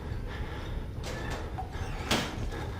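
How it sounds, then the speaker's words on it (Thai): A door eased slightly open in the horror game Outlast, with a couple of soft creaking slides and a brief louder scrape near the end over quiet background noise. "เปิดประตูแง้มๆ ออกไปดูหน่อยได้ไหม"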